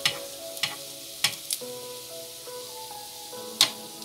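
Oil sizzles steadily as Moroccan sfenj doughnuts fry, basted with a few sharp clinks of a utensil, while soft sustained musical tones play underneath.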